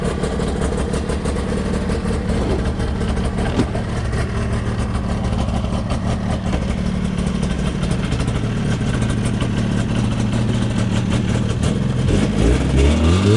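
A rare Yamaha VMAX 540 snowmobile engine, warmed up for its first ride, runs steadily and loudly throughout, a dense mid-pitched two-stroke drone with slight rises in revs near the end and no talking.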